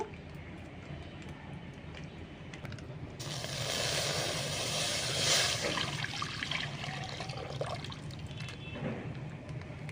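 Milk from a cut 500 ml packet pours into a kadai on the stove for kheer malai, a steady liquid splash that swells after a quiet start and keeps flowing close by.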